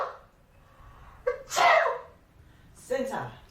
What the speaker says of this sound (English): He looks very miserable and begins to sneeze.